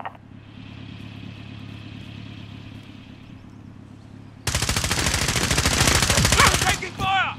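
Rapid automatic gunfire in a battle royale video game, a dense loud burst of shots that starts abruptly after a quieter stretch of steady background hum and keeps going for several seconds.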